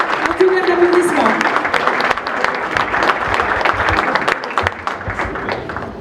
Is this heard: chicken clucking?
no